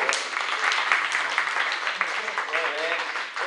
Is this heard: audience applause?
yes